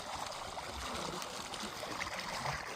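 Irrigation water runs through a groundnut field on a cow-based natural farm, a faint, steady trickling and gurgling flow that holds evenly throughout with no voices.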